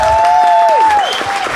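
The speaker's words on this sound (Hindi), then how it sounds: "एक बार ताली बजा दो भाई के लिए।" Crowd applause at a live comedy show, a dense clapping wash with a sustained whistle-like tone sliding downward over it, loud and steady before easing slightly.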